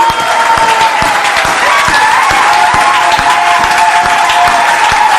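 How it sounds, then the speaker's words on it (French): A church congregation applauds steadily throughout, dense sustained clapping filling the room at close range with a faint murmur of voices beneath. "Est-ce qu'on peut applaudir?"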